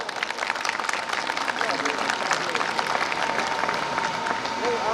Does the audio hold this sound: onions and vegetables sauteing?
no